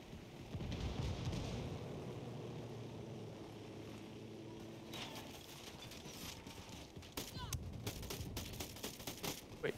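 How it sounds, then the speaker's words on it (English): Enemy minigun fire in Ghost Recon Wildlands, bursts of rapid automatic shots crackling over a constant engine-like drone, growing sharper and more frequent in the second half, with voices talking over the action. "that's a minigun shooting at me"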